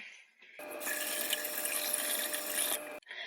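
Water gushes steadily from a tap for over two seconds as items are rinsed under a pressured stream, a close, loud hissing flow that starts and stops abruptly.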